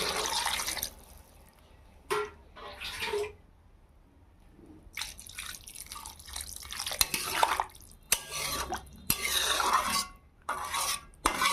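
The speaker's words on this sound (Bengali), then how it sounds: "এবার আমি পানি দিয়ে দেবো।" Water is poured into a pan of tomatoes and coriander for fish curry in several bursts, splashing and sizzling with short gaps between pours, close and moderately loud.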